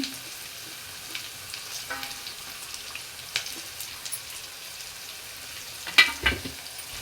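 Curry leaves and mint sizzle softly in a hot pan of frying potatoes, a steady low crackle with a few sharper pops near the end, no voices.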